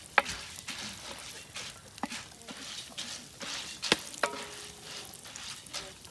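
Hot oil sizzling and crackling in a pot while making popcorn, a steady low frying hiss punctuated by sharp clicks and taps of stirring, faint and close with a voice speaking at moments.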